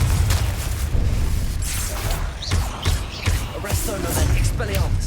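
Confringo blasting spell in the Hogwarts Legacy video game, a series of booming magical blasts and thuds repeating over a steady game background, mixed with other effects.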